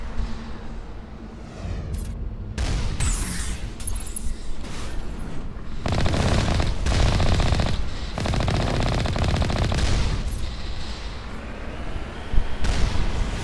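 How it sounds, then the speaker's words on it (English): Rapid automatic gunfire in the sci-fi video game Mass Effect crackles in repeated loud bursts, with brief pauses and a booming impact near the end. "Something's shooting at me."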